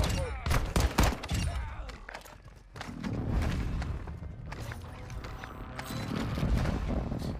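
Bursts of gunfire in Warzone, rapid loud shots in clusters alternating with clanking mechanical movement and footsteps, with a voice talking in the background.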